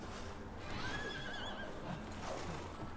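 Horse whinny from the Resident Evil Village video game, a rising and falling neigh rolling over a dense, noisy battle backdrop of game sounds, with no voices over it.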